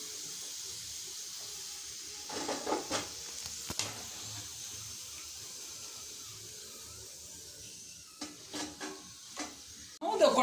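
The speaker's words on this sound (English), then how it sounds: "Till it becomes brown, you have to fry them in the oil." Kozhakattai, or modak, frying in oil, heard as a faint steady hiss and sizzle with a few soft stirring knocks and clinks of a utensil against the pan, growing louder at the very end.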